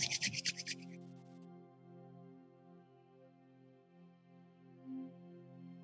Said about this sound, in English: And again, rub your hands.